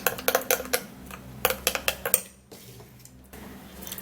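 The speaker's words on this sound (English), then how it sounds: "you mix it really well so that all of the ingredients can be" A utensil stirs and clinks against a bowl while banana and egg face mask ingredients are mixed, sounding as quick, close, bright taps in bursts that soften into quieter scraping.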